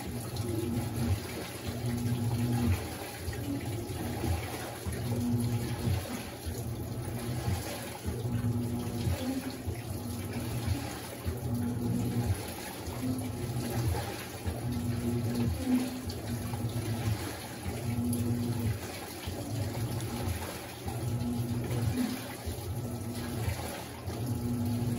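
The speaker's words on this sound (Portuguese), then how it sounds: "começou a adicionar mais água" Water gushes steadily into the drum of a Panasonic 14kg cyclone-system washing machine during a cycle for bedding, a continuous close rushing fill with faint rhythmic pulses and no talk.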